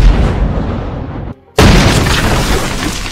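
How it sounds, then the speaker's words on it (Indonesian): A giant firecracker going off in a Korean royal period film, a loud roaring blast, a brief sudden drop to near silence, then a second thunderous boom trailing into a long rumble. "ternyata itu adalah petasan raksasa"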